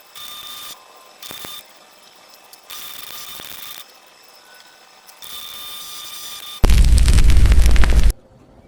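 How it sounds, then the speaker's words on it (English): Welding on turbo parts, with intermittent steady buzzing arcs in short bursts, followed by a louder, harsher crackling roar for about a second and a half near the end. "the holes lined up while I'm welding it"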